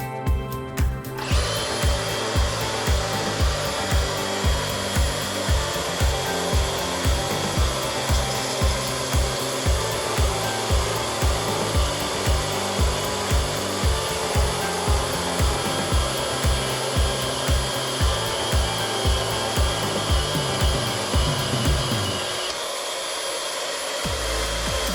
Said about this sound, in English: did a test cut on some 1/4-inch steel plate